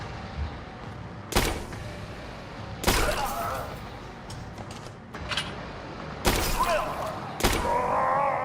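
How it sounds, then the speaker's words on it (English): Shotgun blasts in the survival horror game Tormented Souls, several separate booming shots spaced a second or more apart, loud and close, over a low rumbling background with faint groans. "Yeah, the shotgun definitely brought him down."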